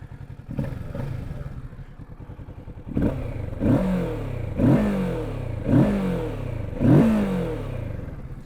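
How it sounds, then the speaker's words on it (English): A 2024 Kawasaki Ninja 650 parallel-twin engine idling with a rough pulse, then blipped through four sharp revs, each rising and falling quickly, close and loud with no voices. "Parallel twin 650, they really do have a distinctive sound"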